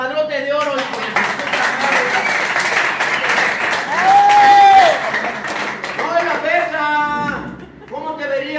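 A crowd claps and cheers during a live Mexican freestyle rap battle, dense and loud, with sustained shouts and whistles rising over the applause and voices calling out through it.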